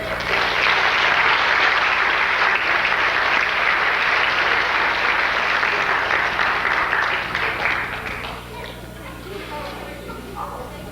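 An audience at a 1996 children's Caravan Program awards ceremony applauds the children in a dense, steady burst of clapping that holds for about eight seconds, then thins and fades.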